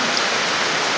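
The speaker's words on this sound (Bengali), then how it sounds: "বৃষ্টি শুরু হয়ে গেছে।" Heavy rain pours down in a coastal area of Patuakhali, a steady, close and unbroken hiss of falling water with no voices.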